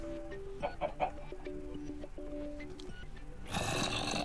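Chickens cluck in Minecraft in a barn with animals, a series of short rhythmic clucks over a faint music-like tone, close and moderately loud, ending in a burst of broadband noise.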